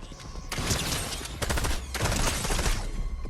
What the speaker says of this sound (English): Okay, so this is Thorn's scoped SMG